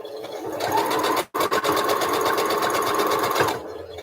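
A sewing machine runs in a near, steady whirring burst, pausing briefly once before resuming and then stopping, with no talk over it.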